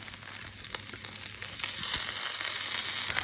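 Ribeye steaks fry in a hot pan with the fat rendering, giving a steady, close sizzle with crackle and spitting that swells a little louder partway through.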